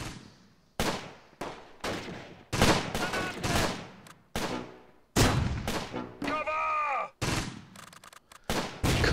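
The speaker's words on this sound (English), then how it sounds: "And that's a machine gun." Machine gun fire and gunshots in the war strategy video game Close Combat, sounding as loud separate bursts and volleys that each ring out and fade, one long sustained burst near the middle, close and with no talking.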